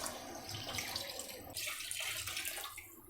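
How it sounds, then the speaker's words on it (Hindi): Water is poured into a beef karahi pot, about 1.25 litres, making a faint continuous splashing rush that shifts in tone partway through, with no talking. "और इसमें हम डालेंगे अब पानी,"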